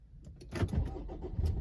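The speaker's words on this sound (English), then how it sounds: "Oh, the car started." A Subaru Outback's engine cranks and catches, a low rumbling turnover heard up close from inside the car, settling into a steady idle within about a second, with no talking.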